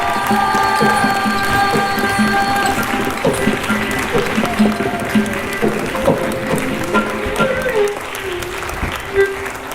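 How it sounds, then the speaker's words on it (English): An audience applauds after a Bharata Natyam arangetram dance performance, full sustained clapping from a crowd with some voices and tonal sound underneath, tapering slightly near the end. "Let's keep that applause going"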